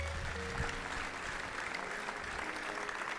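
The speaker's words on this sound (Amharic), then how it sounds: "አጨብጭቡ ለእግዚአብሔር ክብር" A church congregation claps in praise, a brief, moderately loud patter of applause that carries on evenly through a reverberant hall.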